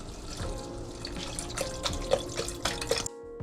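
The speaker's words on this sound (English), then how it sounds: "now we're gonna add our chicken broth" A quart of chicken broth poured into a pot for baked potato soup, a steady close liquid splashing and gurgling with a few bubbling glugs before it stops abruptly.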